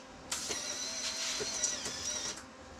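Lincoln 3200 HD MIG welding machine running with ER70S-6 .30 wire, a steady high-pitched buzzing hum that starts abruptly and holds for about two seconds, fairly close and alone.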